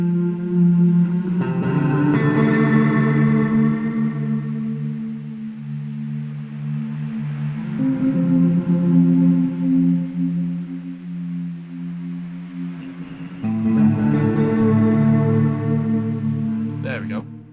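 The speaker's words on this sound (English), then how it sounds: "the harder that hits, the bigger a reverb we get" A large reverb from the Arturia FX Collection 3 plugin swells over sustained low synth notes, with long washing tails that bloom and decay between chord changes, loud and continuous.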